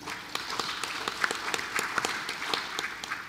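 A city council chamber audience applauds to welcome guests, a fairly faint patter of many scattered claps going on steadily for a few seconds.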